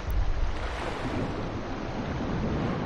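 Underwater swimming in Sekiro: Shadows Die Twice gives a dense, muffled watery rush, steady and fairly loud throughout, with no voices.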